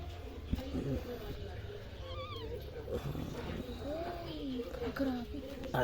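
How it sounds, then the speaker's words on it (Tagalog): A cat giving birth lets out strained, wavering meows, several drawn-out cries rising and falling under a steady background hum, with people talking nearby. "Ay, pusa naman papaanganakin natin."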